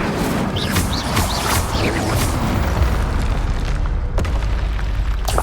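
A loud, booming burst from the Incendio fire spell in a video game, a dense rumbling blast filling the whole moment with crackling debris, no talking.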